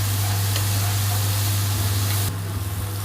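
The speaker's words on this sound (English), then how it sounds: "Now all this beautiful sauce with the rosemary, we can add our onion to it now." Onion hits a pan of sizzling butter and rosemary steak sauce, giving a loud, dense, continuous frying hiss close up that drops abruptly near the end, with a low steady hum underneath.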